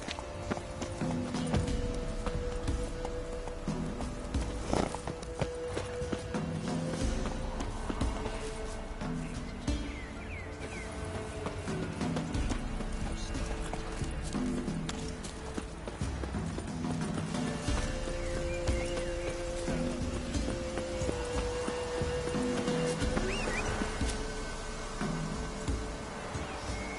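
A horse in The Witcher 3 galloping with steady, rhythmic clip-clop hoofbeats, heard close over a constant game soundscape throughout.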